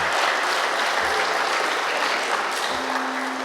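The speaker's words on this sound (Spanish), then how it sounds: "un aplauso a Cristo Jesús" A church congregation claps together for Christ Jesus at a worship service, a dense, steady wash of applause filling the room at even loudness throughout.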